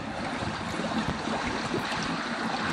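Waste water rushes out through an opened valve onto a garden, a continuous close splashing flow that stays steady and fairly loud for the whole few seconds with no talk.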